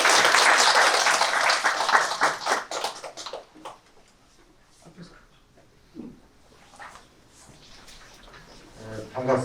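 Loud audience applause welcoming a speaker at a sustainable development seminar in Daejeon, strongest at first and fading out within a few seconds, followed by quieter room sounds and scattered voices.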